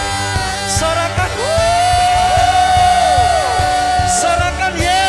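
A church congregation during an online Sunday worship service cheers, whoops and shouts together, a loud sustained crowd roar with individual yells rising over it, alongside sustained tonal music throughout.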